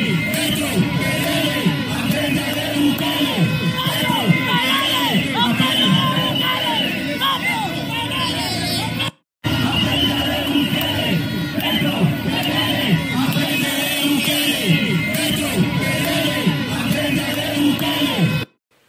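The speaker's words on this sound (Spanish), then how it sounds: "esas son las consignas de gritas o de gritos allá en Colombia" A large outdoor crowd in Colombia chants political slogans against Petro, a dense, rhythmic roar of many voices that runs steadily for the whole stretch, cutting out briefly near the middle.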